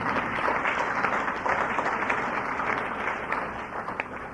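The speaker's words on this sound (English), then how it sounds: "Yeah, you can clap." Steady applause from an audience at a 1989 San Diego speaker meeting, dense and sustained throughout at an even, fairly loud level with no pauses.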